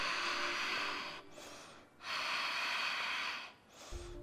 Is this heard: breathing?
yes